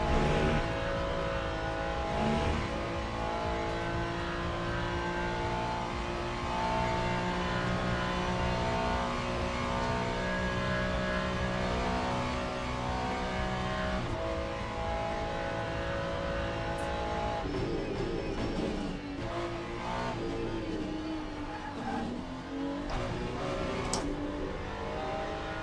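Race car engine in the sim racing games Le Mans Ultimate and iRacing, a steady loud drone with shifting rev tones and gear changes throughout, rising and falling pitch under continuous play.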